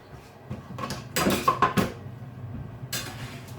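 Hot oven chips lifted onto a plate: a short burst of close clattering and scraping of a utensil against a tray and plate, then a brief final clink.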